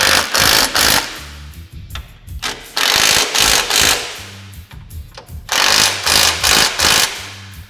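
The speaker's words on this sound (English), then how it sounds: "Now we're gonna go ahead and fully tighten all the hardware securing the mount to our bracketry." Power tool tightening snow plow mount hardware onto the bracketry of a Polaris General XP 1000, running loud and close in repeated whirring bursts of about a second each, separated by brief pauses.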